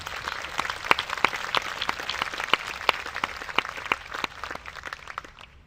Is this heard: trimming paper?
no